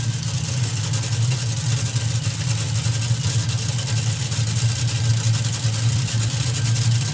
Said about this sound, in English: You can hear it start to crackle.